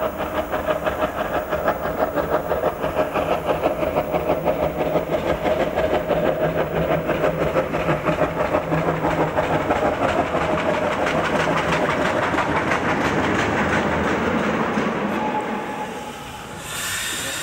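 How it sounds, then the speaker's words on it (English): Steady, loud rumble of a two-cylinder compound steam locomotive running at speed, with a slow, regular exhaust beat of two beats per revolution over rail clatter, fading slightly near the end. "A two-cylinder compound at speed sounds slow. Only two exhaust beats per revolution are audible."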